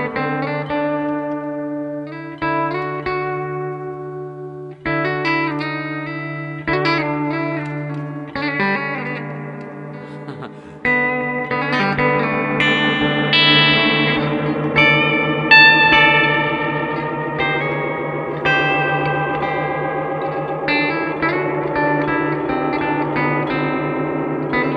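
Electric guitar run through an Earthquaker Devices Rainbow Machine pedal with no amp reverb or delay, played as sustained notes and chords with a shimmering, pitch-shifted ambient wash that builds fuller and denser over the passage.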